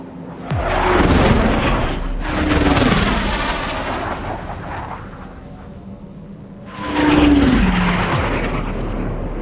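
Jet-like UAV aircraft in the combat flight game Ace Combat 7 roaring past in repeated loud swells, three broad whooshing passes with quieter gaps between them.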